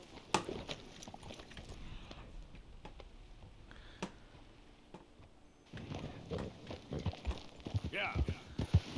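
Horse hooves in Red Dead Redemption 2 clip-clopping in an uneven rhythm close by, with scattered sharp knocks and a busier stretch of steps toward the end.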